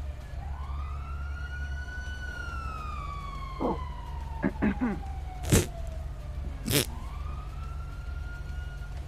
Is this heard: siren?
yes